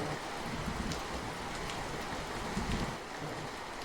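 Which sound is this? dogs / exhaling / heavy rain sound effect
heavy rain sound effect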